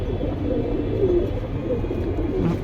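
Soft, low cooing of pigeons repeats a few times over a steady background hum, close and gentle.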